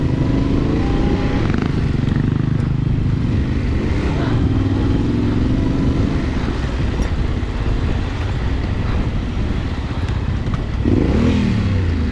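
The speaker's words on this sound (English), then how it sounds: "This here's Matt on his KLR" A Kawasaki KLR dual-sport motorcycle rides through a Sandwash enduro race, its engine droning loudly and continuously up close, with pitch rising and falling as it revs over rough terrain.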